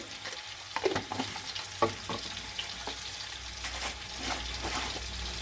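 Asafoetida and ginger powder sizzle in hot oil for chana dal, a steady frying hiss with a few sharp spatters and stirring scrapes, close and moderately loud.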